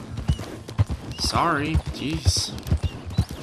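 A horse is ridden at speed in Red Dead Redemption 2, its hooves pounding in quick rhythmic thuds. A neigh rises midway, and someone speaks briefly over the galloping.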